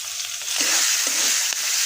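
Oil sizzles hot in a frying pan, a bright steady hiss with a couple of soft stirring knocks, close and alone.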